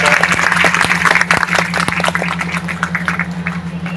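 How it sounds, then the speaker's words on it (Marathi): Audience members clap at the closing program of a Brahmavidya pothi religious ceremony in Aroli, sharp scattered claps over a steady hum that thin out toward the end. "टाळ्या वाजवायचा."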